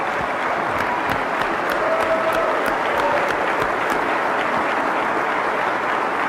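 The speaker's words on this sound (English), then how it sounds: "we'll give you a great big round of applause." A crowd at a West Virginia State of the State address gives a long, even round of applause, sustained and fairly loud, with a few sharper claps standing out near the start.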